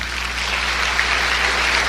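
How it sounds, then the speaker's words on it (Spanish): Church congregation applauding during a Spanish-language sermon, a steady dense wash of clapping that fills the whole moment without pause, loud and close, with no voices over it. "Dele un aplauso al Señor."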